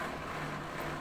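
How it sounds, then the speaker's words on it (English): A Samsung washing machine's drain pump runs while draining water, giving a steady low mechanical hum with a faint tonal whine, even and continuous throughout. "That's the sound of the drain pump."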